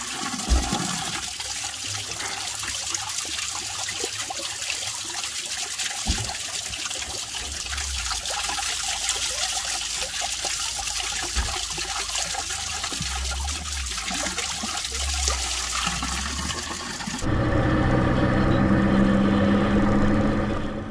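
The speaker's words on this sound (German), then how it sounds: "Wasser fassen hier an dieser herrlichen Quelle." Water flowing from a spring in Sardinia while water is collected, a steady close rushing and trickling stream that lasts throughout and turns louder and fuller near the end, with no talking.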